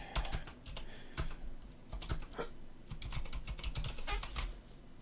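Quick bursts of keystrokes on a computer keyboard, close and clattering, in short rapid runs with brief pauses between them.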